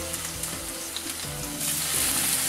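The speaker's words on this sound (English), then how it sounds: "And then carefully add your fish" Cod frying in olive oil in a smoking-hot pan, a dense steady sizzle with scattered crackles and a few soft scrapes, growing louder and brighter toward the end.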